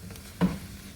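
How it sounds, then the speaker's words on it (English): Vegetables sautéing with meat in a pan, a low sizzle with one brief, louder burst of stirring partway through, then settling back to a steady fry. "I'm gonna go ahead and let these veggies saute in with that meat."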